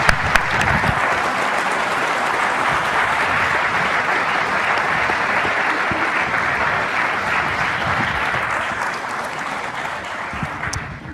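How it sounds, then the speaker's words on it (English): A large audience at a senior school awards ceremony applauds steadily and loudly for the full stretch, dense sustained clapping with no talk over it, tapering slightly at the very end. "a very deserved round of applause there"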